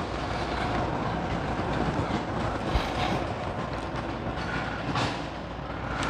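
Light rail (LRT) train running along its tracks, heard from on board as a steady broadband rumble with faint rhythmic wheel clatter throughout.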